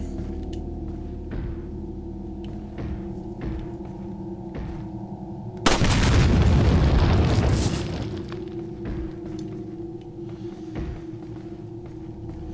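A dynamite stick in Resident Evil 4 on the Wii is shot and explodes in a single loud boom, followed by about two seconds of roaring rumble that dies back into steady game ambience.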